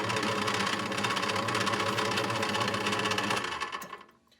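A lathe with work held in the chuck runs at speed, giving a loud, steady mechanical whir with rapid rhythmic clatter, then spins down and fades away over the final second.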